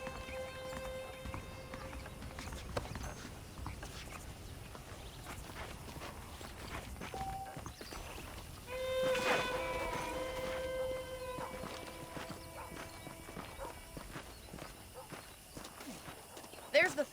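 Horse hooves clopping at a walking pace in Red Dead Redemption, steady and fairly quiet, mixed with game music tones and a voice talking over them.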